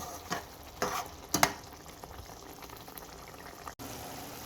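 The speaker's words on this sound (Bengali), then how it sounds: "আবার কিছুটা পানি দিয়ে আবার একটু কষিয়ে নেব" Prawns sautéing in a pan with a splash of water for prawn do-pyaza bubble and hiss softly, with three or four distinct stirring scrapes early on, then a quieter simmer.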